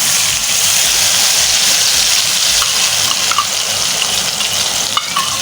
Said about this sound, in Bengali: এবার এর ওপর আমরা এই গোলা মশলাটা ঢেলে দেব।